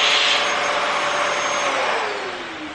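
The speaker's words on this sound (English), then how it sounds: "Sorry if you can't hear me, but Dave is hoovering" A household vacuum cleaner drones loudly and steadily nearby with a whining motor tone, easing off slightly at the end.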